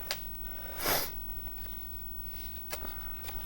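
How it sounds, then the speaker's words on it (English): A person sniffs once, close and fairly loud, against a quiet room with a few soft shorter sniffs or handling sounds around it. "Sorry, I'm going to try not to sniff."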